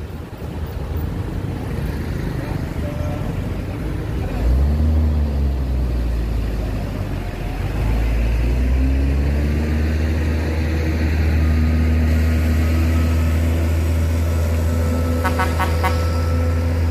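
A loaded 31-ton truck towing a stuck 30-ton loaded truck up a steep incline, with a deep, sustained diesel engine drone rising in pitch as the load strains, loud and continuous throughout.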